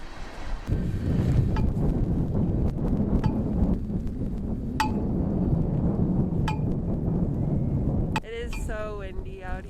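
Strong wind outdoors during a California blizzard, a continuous loud gusting roar blasting the microphone for most of the time, with a few sharp clinks and a voice speaking near the end.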